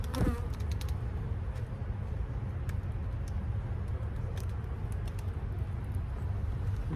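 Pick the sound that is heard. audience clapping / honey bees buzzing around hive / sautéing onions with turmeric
honey bees buzzing around hive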